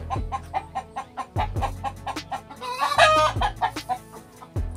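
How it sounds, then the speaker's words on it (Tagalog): Chickens on a farm clucking close by in repeated short rhythmic bursts, with a louder flurry of agitated clucks partway through. "Ayan, lumabas na yung mga manok, no?"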